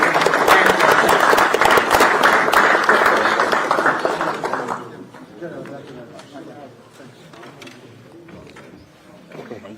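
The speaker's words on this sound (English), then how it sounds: "Gentlemen, thank you very much. Another round of applause." Audience applause at a national security conference, dense and loud for about five seconds before thinning into scattered claps and chatter.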